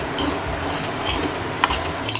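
Rice stirred while roasting on slow heat in a kadai, making a steady scraping and rustling of grains against the metal pan, with a couple of faint clinks.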